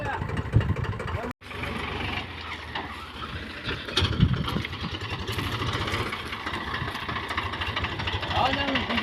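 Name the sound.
tractor engine reversing with a load of manure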